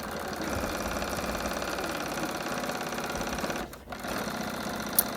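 A sewing machine runs steadily while stitching the bottom seam of an apron, a close, continuous mechanical whir that stops briefly near the end and then resumes.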